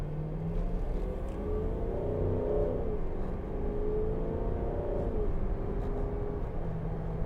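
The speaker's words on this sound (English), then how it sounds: "Now, that sounds pretty good, doesn't it, for a diesel engine?" 2012 Range Rover TD V8 diesel engine accelerating in sport mode, a steady close rumble with rising and falling engine tones as it pulls through the gears.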